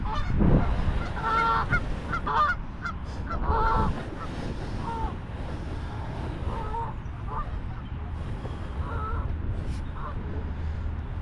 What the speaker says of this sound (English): Excuse my geese friends.